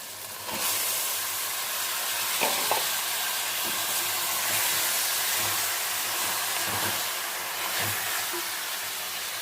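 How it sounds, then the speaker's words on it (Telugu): Mutton pieces drop into a hot pan and fry with a loud, continuous sizzle and hiss. Occasional scrapes and stirring knocks sound from close by. "ఇప్పుడు ఇందులో మటన్ కూడా వేసేద్దాం."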